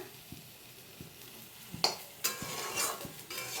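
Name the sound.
okra frying and being stirred in a pan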